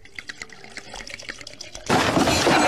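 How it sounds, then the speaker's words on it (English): Vodka glugs out of a bottle after a few faint clinks and taps, the pour starting abruptly and continuing as a loud, steady splashing stream into a container for a blended craft drink. "Pours the whole bottle."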